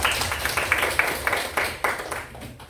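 A classroom group claps for group 3 during a pharmacy lesson on medicine storage, a short run of uneven, moderately loud hand claps from a small number of people.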